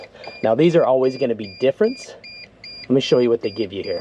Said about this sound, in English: You'll have to excuse the door beeping.